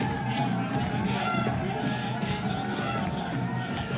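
Fans in the stands at the 2023 Isha men's kabaddi final make a steady, close crowd roar with overlapping chatter and occasional louder swells.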